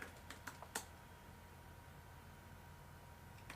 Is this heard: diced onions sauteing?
no